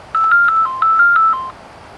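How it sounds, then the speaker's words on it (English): A Motorola HF820 Bluetooth speakerphone rings for an incoming call with two loud, clean electronic trill bursts of rapid beeping tones, heard alone. "we got a phone call"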